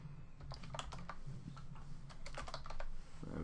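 Quiet keystrokes on a computer keyboard tap out a short word, a quick irregular burst of clicks close by, with a low background hum.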